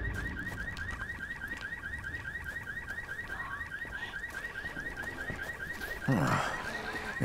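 A looping electronic alarm rings steadily inside a building in the video game Dead Island Riptide, a repeating warble that persists throughout, with a brief louder rustle or thump near the end.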